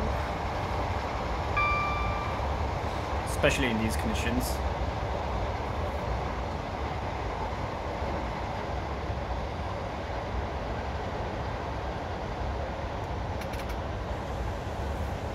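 A Class 90 electric train running in Train Simulator, a continuous loud rumbling drone heard while someone talks over it briefly.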